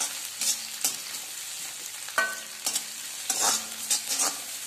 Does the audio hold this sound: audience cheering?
no